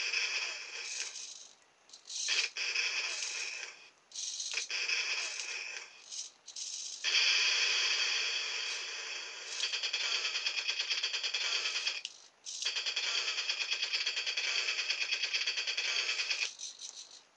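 A toy RC tank's electronic weapon sound effects from a small speaker, thin rattling bursts of rapid-fire shots in short and long stretches with brief gaps, tinny and fairly loud, without any low boom.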